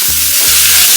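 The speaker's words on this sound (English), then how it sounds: "Now while that's going, we're just going to mix everything up in here." Chicken fried rice tossed in a hot pan, a loud, close hiss of frying with two short stirring scrapes in quick succession.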